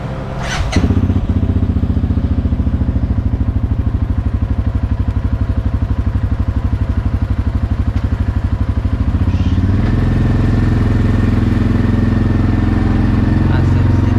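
A quad bike engine runs steadily and loudly close by, a continuous rumbling drone with a clatter near the start and a slight shift in tone toward the end.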